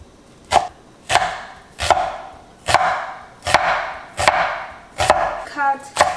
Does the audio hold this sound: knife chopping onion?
yes